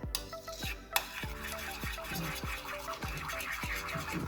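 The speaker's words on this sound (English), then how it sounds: "so let's just stir this around a bit" Melted candle wax is stirred in a container, giving repeated soft scraping strokes at a steady rhythm with a faint background hiss and one sharp knock early on.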